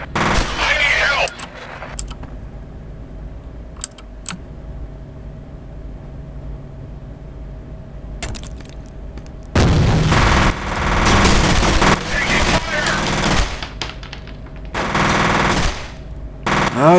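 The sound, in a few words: gunfire in the video game F.E.A.R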